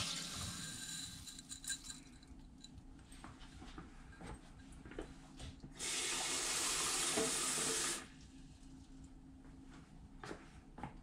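Tap water runs for cooking pork fried rice in a quiet kitchen, a clear two-second gush in the middle amid soft clinks and handling sounds.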